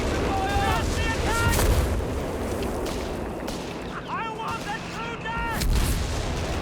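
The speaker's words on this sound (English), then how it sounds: "Bringing in the recon artillery." Recon artillery barrage in the Company of Heroes 3 video game: a steady rumble of distant shell impacts and booms runs throughout, with a voice speaking over parts of it.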